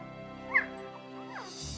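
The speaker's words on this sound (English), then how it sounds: "Wriggling in behind him is the smallest sister, a tan pup named Sally." A small tan mixed-breed puppy gives faint, high whimpers and yips close by, set against a steady background hum.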